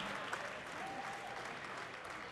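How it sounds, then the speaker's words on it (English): Arena crowd applauds two boxers after an eight-round fight, a steady dense wash of clapping filling the hall at even loudness throughout. "let's get a big Indio round of applause for these two warriors"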